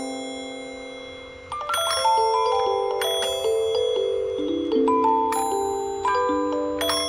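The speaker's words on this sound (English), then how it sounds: "Yeah, that's the ice cream truck music" Ice cream truck music played with bells, a bright chiming melody of ringing tones that starts after a quiet second and carries on loud and steady.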